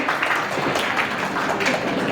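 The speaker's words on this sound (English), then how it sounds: "Come on, we'll start with applause for Pallavi." Dense, steady applause from an audience honouring Pallavi at Tecocraft's 6th anniversary celebration, a close, continuous wash of many hands clapping with no pauses for just over two seconds.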